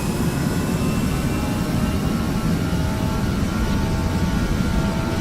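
Steady, loud roar of the jet engines on an Aerosoft A320 airliner at takeoff power in a flight simulator, a constant broadband rumble with a faint high whine, no voices.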